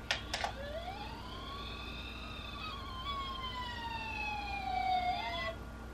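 A toy ambulance sounds its electronic siren after a couple of sharp clicks, a wavering wail that sweeps up and down for several seconds, close but fairly quiet, with no talking.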